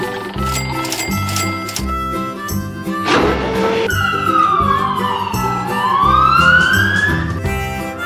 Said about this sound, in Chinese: 警车， 警车。